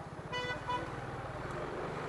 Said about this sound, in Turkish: Abi bu nasıl bir trafik?